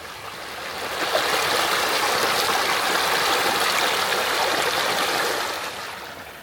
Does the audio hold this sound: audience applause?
no